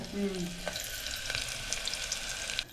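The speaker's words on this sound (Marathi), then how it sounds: "काय फोडणी घालता भाजी" Loud, steady sizzling of spices hitting hot oil as a tempering for a black pea curry, with crackles and small pops scattered throughout a short burst.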